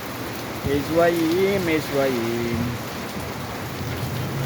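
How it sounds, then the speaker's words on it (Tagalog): Heavy rain pouring down during a storm, a steady dense hiss filling the background throughout, with a voice speaking over it near the start. "Grabe par, ang lakas ng ulan, par."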